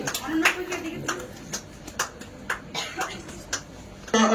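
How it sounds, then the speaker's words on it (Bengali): Audience applause in a hall, a run of sharp hand claps rising and falling over a few seconds, moderately loud, with voices talking alongside it. "আপনাদের সবাইকে ধন্যবাদ হাততালি দেওয়ার জন্য"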